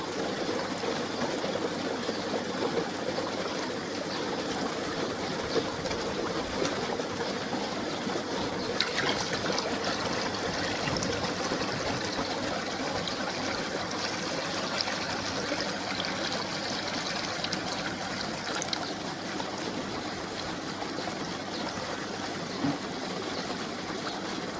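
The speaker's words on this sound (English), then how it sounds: "let's top up just a little bit more water with a watering can" Water from a watering can pours steadily into a koi pond's Eazy Pod filter, making a continuous close trickling and splashing stream that runs unbroken for the whole stretch with no voices.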